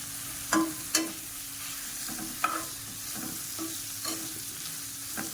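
Curry leaves sautéing in a pan for a crab curry give a steady close sizzle, broken by several sharp scrapes and knocks of a spoon stirring, with no talking.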